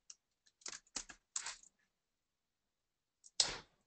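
Sparse computer keyboard typing: a few quick clustered keystrokes, a pause, then one more pair of sharp clicks, close and quiet, while HTML is entered in a code editor.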